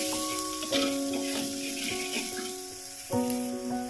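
Masala paste for mackerel thoran, seasoned with salt, sizzles softly as it is sautéed in a pan, a low steady frying hiss with light stirring, under a sustained tonal background sound.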